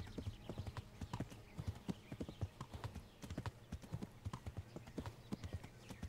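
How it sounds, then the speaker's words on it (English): Horse hooves pound in a rapid, steady galloping rhythm through a forest in the video game Kingdom Come: Deliverance, close and continuous with no talking. "Let's just blow through this forest with our horse."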